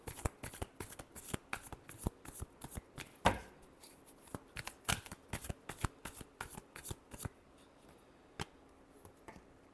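A deck of tarot cards is shuffled by hand in a series of crisp riffles and slaps, close and repeated in quick rhythmic bursts, with no voices.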